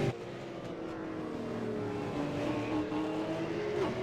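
A V8 Supercar engine heard on board in the iRacing game at Mount Panorama drones at steady revs, fairly quiet, with a slight rise and fall in pitch and no talk over it.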